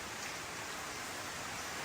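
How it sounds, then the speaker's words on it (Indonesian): Heavy rain pouring down steadily during a flood in Gorontalo, a dense, continuous hiss that is fairly close and unbroken, with no voices. "Jadi hujan ini masih tetap terus turun ya."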